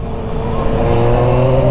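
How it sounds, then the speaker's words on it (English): A motorcycle engine revs close by, blending intake growl and exhaust note into a loud, sustained drone that rises in pitch partway through. "I think that's a combination of the intake, growl, and the exhaust note of this bike"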